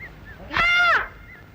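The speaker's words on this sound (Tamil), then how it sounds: "என்ன அது காக்கா சத்தம் கேக்குது" A single loud, harsh crow call with a nasal, honking tone rings out close by for about half a second against quiet background.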